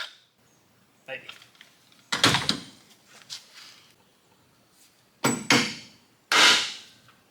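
Hammer blows knocking metal off a cheaply made distributor part, a few sharp separate strikes in uneven bursts with pauses between, close by, and some talk in between.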